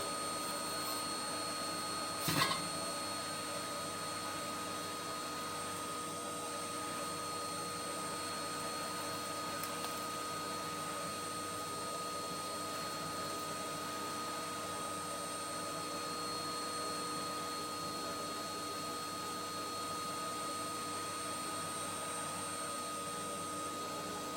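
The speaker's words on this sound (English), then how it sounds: "I'm going to hoover now." A vacuum cleaner drones steadily and close up while hoovering soot and debris from a freshly swept open fireplace, with one sharp knock early on and no talking.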